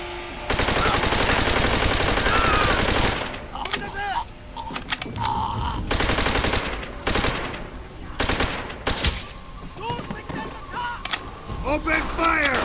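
Heavy machine gun fire in the World War II shooter Call of Duty: World at War comes in long sustained bursts, followed by shorter clattering volleys and scattered single shots mixed with mechanical clanks. The fire is loud and close.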